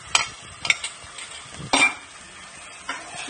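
Chicken sizzles in a hot pan of oil with fried onions, ginger and garlic while a utensil scrapes and clanks against it in a few sharp, uneven strokes of stirring.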